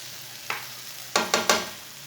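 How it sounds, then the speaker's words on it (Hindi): Tomatoes and green peas frying in a pan over medium heat, a low steady sizzle with one spoon knock followed by a quick run of three scraping stirs, no speech. "5 मिनट तक सब चीज़ों को मैंने फ्राई कर लिया है।"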